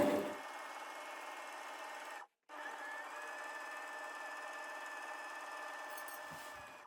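A sewing machine runs steadily while stitching pin tucks on a blouse, a close, even mechanical whir that stops briefly for a moment, then resumes and continues at a constant pace.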